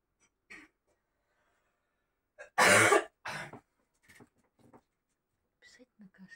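A loud burst of coughing, two harsh hacks close together, with faint breaths and soft murmurs around it in an otherwise quiet room.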